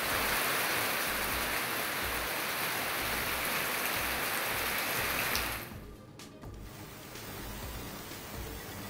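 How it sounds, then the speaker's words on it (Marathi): Heavy downpour in Sinnar gives a dense, even hiss of rain for several seconds. The sound then drops abruptly to a quieter, thinner wash. "सिन्नरला मुसळधार पावसाचा मोठा तडाखा"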